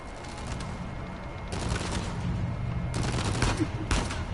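Sniper gunfire in the video game Uncharted 4, several sharp shots in bursts spread across a few seconds over a dull background, moderately loud with no talk.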